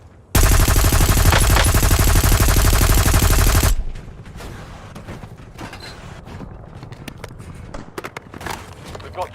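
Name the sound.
sniper gunfire in the video game Warzone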